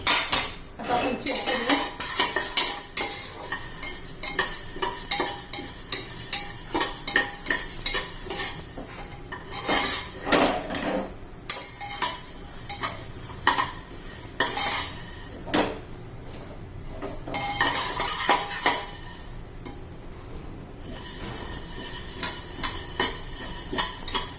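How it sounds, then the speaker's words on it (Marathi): Continuous loud metallic rattling and clattering as a cooker of sorghum grains is shaken, with sharp popping crackles of the grain scattered throughout and brief pauses between bursts. "आत बघा कसं तडतडा आवाज येतोय मधून मधून कुकर हलवत राहायचं"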